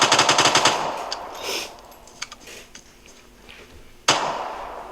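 Gunfire in the video game Vigor: a quick burst of rapid automatic shots opens, followed by scattered single cracks and more distant pops, then one sharp, loud shot near the end, with no talking.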